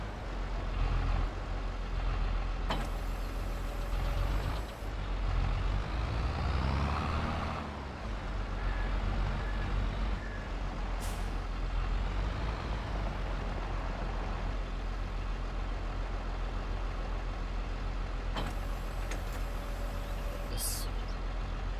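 Tractor engine from Farming Simulator, a New Holland-style T7 model, drones steadily throughout with brief bursts of mechanical noise and clanks, no voices present.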